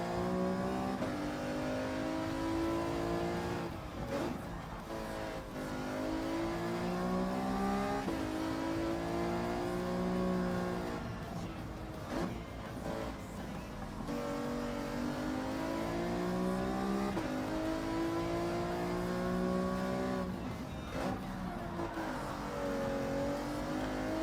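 A race car engine in the Gran Turismo 7 video game, driven at Fuji Speedway, revs and drones steadily, its pitch swooping up and down through gear changes and corners, with other cars' engines blending in. There is no talking.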